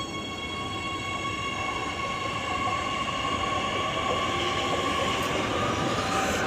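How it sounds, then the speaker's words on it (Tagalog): A big train rumbles and rolls past, its wheels grinding on the rails with steady loud noise and a faint high squeal building throughout. "It's a big train. Now it's coming also."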